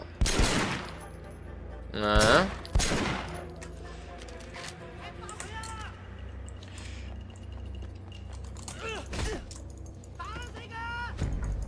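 Several loud bursts of rapid gunfire in the video game Sleeping Dogs, spaced out over the clip, with a voice speaking briefly between shots.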